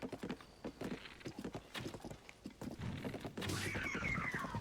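A horse in Zelda: Tears of the Kingdom gallops with quick, rhythmic hoofbeats that thud steadily for several seconds, then give way to a louder burst of game effects near the end.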